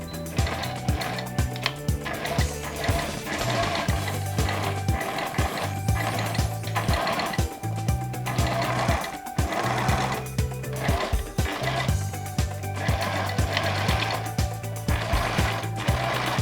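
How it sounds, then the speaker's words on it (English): A sewing machine runs a straight seam along a shirt yoke with half-inch allowance, its steady mechanical hum and fast needle rhythm broken by short pauses and restarts, close and clear with no talking. "take this to my sewing machine and run a stitch from edge to edge using 1/2 inch of seam allowance"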